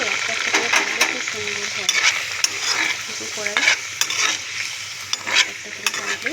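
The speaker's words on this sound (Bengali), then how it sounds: "আমি একটা করে দিয়ে ভাজি, যাতে ভালো হয়।" Luchi, puffed fried bread, sizzles and bubbles in hot oil with irregular crackling bursts and scraping stirs, close and steady, without talk.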